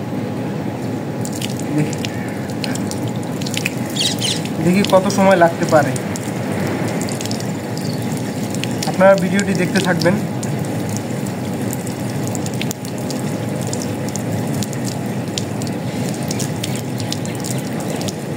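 Ice-cold water poured over a glass full of ice cubes, a steady splashing trickle running underneath someone speaking throughout.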